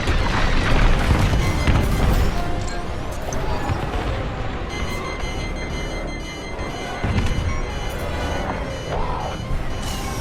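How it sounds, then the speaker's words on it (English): A frigate blows up in the space combat game Star Wars: Squadrons, with a loud, heavy booming explosion and crashing debris rolling on for several seconds, then settling into lower rumbles. "Frigate destroyed."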